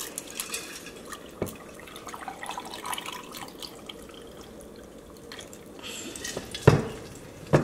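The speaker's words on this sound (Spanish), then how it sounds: "una vez que el agua ya está lista, miren, vamos a servirla aquí en el vaso" Fresh tamarind agua fresca is poured into a glass, giving a faint, steady trickle and splash of liquid that runs throughout, with no voices.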